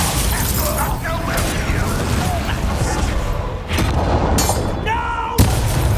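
Bombarda blast spell in the Hogwarts Legacy video game, a dense, loud rumbling barrage of explosive booms and mechanical clatter, ending with a sharp impact.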